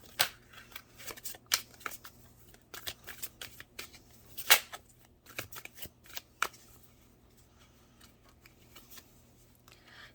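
Tarot cards are shuffled by hand in quick, crisp riffling bursts, close and fairly quiet, with irregular pauses between the flurries.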